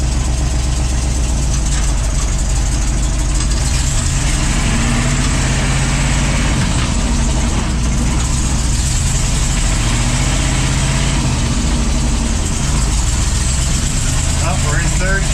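A 1964 Chevy K20 truck creeps along slowly in low range, its heavy engine rumbling loud and close at a steady idle-like drone throughout, with no break in the sound.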